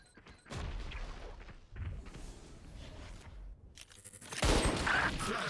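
Gunshots in a Valorant ranked match, a few quiet cracks early on, then a louder burst of rapid fire near the end, with no talking.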